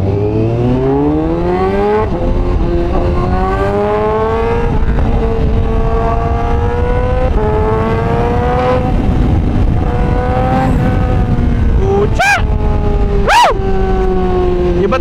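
A Honda CBR1000RR-R Fireblade SP sports bike accelerates hard through repeated gear changes, its engine note climbing in rising sweeps that drop and climb again, loud and close for the whole stretch, with a couple of sharp higher whines near the end.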